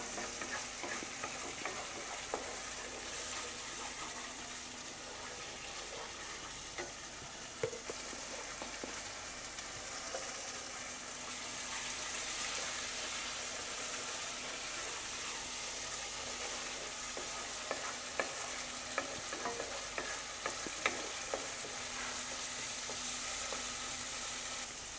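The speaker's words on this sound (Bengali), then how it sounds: "তো মশলাটাকে ভালো করে কষিয়ে নিতে হবে।" Masala spice paste frying in oil in a pan while being stirred, a continuous low sizzle with intermittent scraping strokes, steady and fairly quiet with no talking.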